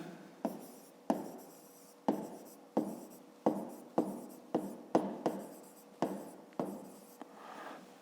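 A pen writes by hand on paper during a fifth-grade maths exercise, in about a dozen sharp strokes at a steady, quick rhythm, each with a short scratchy tail, close and quiet with no talking.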